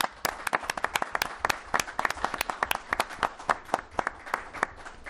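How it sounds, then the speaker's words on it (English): Audience at a town board meeting clapping in a lively burst of sharp, distinct claps that keeps going steadily throughout, fairly close and clear with no talking over it. "Let's give her a big round of applause."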